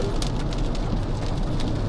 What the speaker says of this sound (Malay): Dah lah ni hujan lagi.